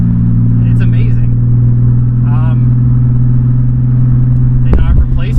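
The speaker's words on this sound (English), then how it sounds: "The Z is definitely fucking loud." A modified Nissan 350Z with aftermarket parts and 150,000 miles drones loudly from inside the cabin, a steady low engine hum with a brief rev near the end, with someone talking over it.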